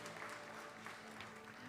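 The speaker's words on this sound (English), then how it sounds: "I think we also need a round of applause for Lorenzo" Audience applause at St. Joseph's Episcopal, a soft, even patter of many hands clapping heard from a distance, faint and continuous through the short stretch with no talk over it.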